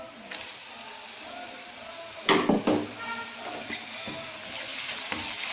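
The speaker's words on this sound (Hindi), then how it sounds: "लहसुन डाल के थोड़ा सा हम इसको मिक्स करेंगे" Garlic stirred into browned onions in a pan gives a steady hiss of sizzling, with a cluster of clinking spoon scrapes in the middle and a louder sizzle rising near the end.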